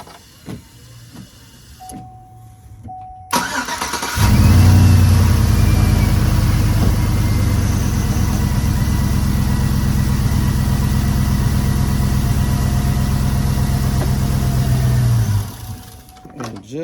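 A 2004 Chevrolet Tahoe engine cranks and starts, idles with a loud steady rumble for about eleven seconds, then abruptly dies as a fuse is pulled; faint clicks and speech come before the start.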